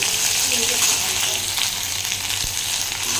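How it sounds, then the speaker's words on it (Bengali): Ginger-garlic paste fries in hot oil in a wok with a steady, close sizzle and bubbling crackle, occasional stirring scrapes, loud and continuous without talk. "তেলটা গরম হয়ে গেলে আমি আদা রসুন বাটাটা দিয়ে বেশ ভালো করে নাড়াচাড়া করে নেব"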